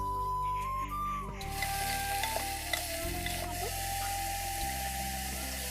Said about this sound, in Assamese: গাজৰ, পেজবিন, ফুলকবি আৰু সোৱাদ অনুসৰি নিমখ, বিলাহী দি সকলোখিনি অলপ সময়ৰ কাৰণে ভাজি ল'ম।